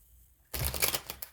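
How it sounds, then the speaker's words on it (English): A deck of tarot cards gets one quick riffle shuffle, a brief close flurry of papery flicks and clicks that follows a quiet pause. "one more shuffle"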